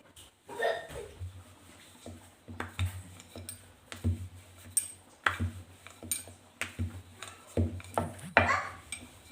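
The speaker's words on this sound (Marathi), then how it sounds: "चला मी आता पटपट पुऱ्या लाटून घेते" Balls of puri dough rolled out quickly with a rolling pin, giving a string of soft knocks and clacks at an uneven, hurried pace over a steady low hum in a home kitchen.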